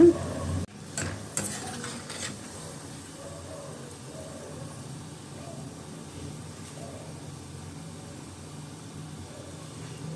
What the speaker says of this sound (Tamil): வேர்க்கடலையும் வறுத்தாச்சு நல்லா